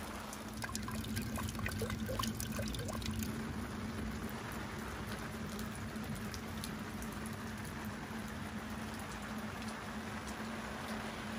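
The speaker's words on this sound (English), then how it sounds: "It hasn't stopped raining" Steady rain falls around a parked camper van in Alaska, a soft, even hiss with a few scattered drips tapping early on, constant and fairly quiet throughout.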